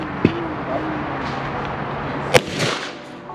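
Two sharp, loud cracks from a Glock 20 firing 220 grain hardcast rounds through a stock length barrel, about two seconds apart, each ringing briefly with echo outdoors.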